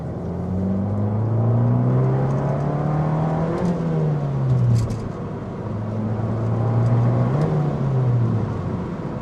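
A manual car accelerates hard, the engine revving up through the range, dropping briefly at each gear shift and climbing again, loud and close from inside the cabin, with no talk.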